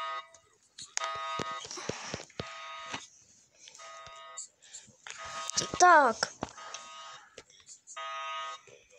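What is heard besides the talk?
alarm in a video game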